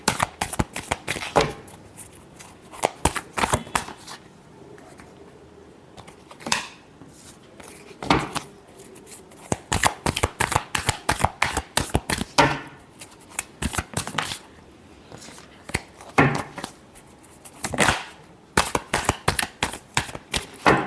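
Tarot cards are shuffled by hand in rapid riffling bursts, loud and close, repeating with short pauses for about twenty seconds.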